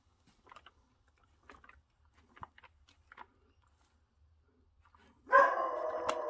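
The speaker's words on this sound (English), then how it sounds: "Sorry, excuse the dog in the background." A dog barks in the background of a quiet room, with faint scattered noises before it. Near the end comes a sudden loud, rough burst of barking.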